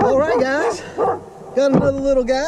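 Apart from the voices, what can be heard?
No everyday noise stands out behind the speech.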